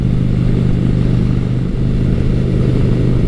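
A 2009 Honda Shadow Spirit 750 cruiser motorcycle being ridden, its mid-pitched engine holding a steady, continuous drone throughout with a slight dip in the middle, loud and close with no talk.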